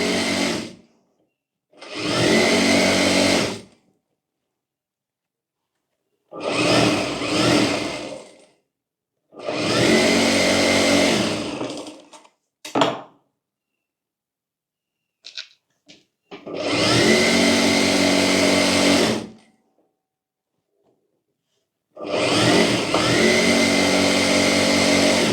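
A sewing machine stitches a deep-neck tucked blouse in several loud, even bursts of whirring a few seconds long, each separated by silence and a few brief clicks.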